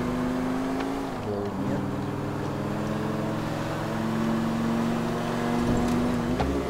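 A car engine in GTA IV drones steadily at a sustained hum with small shifts in pitch as it drives, loud and close throughout, ending with a brief rise and a thump.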